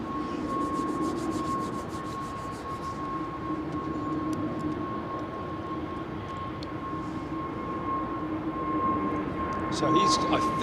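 An aircraft taxiing at London Heathrow Airport gives a steady, far-off engine drone with a constant whine, swelling slightly near the end, while people talk faintly over it.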